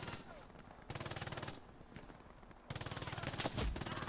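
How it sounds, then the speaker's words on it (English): Automatic gunfire in Hell Let Loose, aimed at the player, comes as two sustained rattling bursts with a quieter stretch between them, then a sharper, heavier crack near the end. "I was being shot at"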